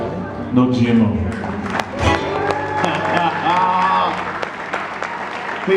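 An audience at a festival concert applauds with a steady wash of clapping, while someone speaks over it and a brief musical tone rings near the end.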